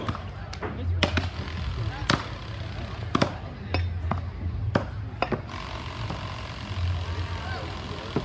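Axes chopping springboard pockets into timber at a New England Cup springboard competition, sharp irregular thwacks striking every second or so over a steady background hum and crowd noise, with voices nearby.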